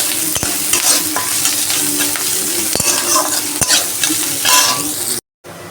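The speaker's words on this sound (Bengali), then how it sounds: "পেঁয়াজটা ভালো করে বাদামি করে ভেজে নেব।" Onions fry in a pan until brown, giving a loud continuous sizzle with sharp scraping strokes from stirring, then a brief dropout of sound near the end.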